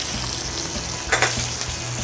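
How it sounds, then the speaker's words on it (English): Skin-side-down food sizzles in a very hot pan, a steady close frying hiss throughout with a couple of brief louder crackles near the middle, no voices. "Skin side down, start it off. Nice little sizzle, that's what you're looking for."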